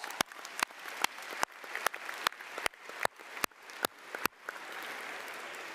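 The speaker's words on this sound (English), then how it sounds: "give them a round of applause." Applause at a 2018 high school graduation commencement ceremony, a moderate crowd clapping steadily, with loud individual claps standing out regularly close by before the sound thins toward the end.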